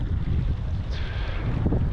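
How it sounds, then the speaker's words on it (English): A strong gust of wind roars and buffets the microphone on shallow open water off the Isle of Skye, with a heavy low rumble that stays constant throughout. "Oh, there comes such a gust."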